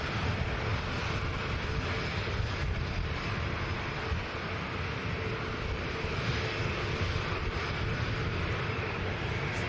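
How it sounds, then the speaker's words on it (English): A Pilatus PC-12 turboprop lines up on the runway at Manchester Airport, its engine giving a steady, broad, unbroken roar at close range with no voices. "Silver Aviation PC-12. Lining up next to go."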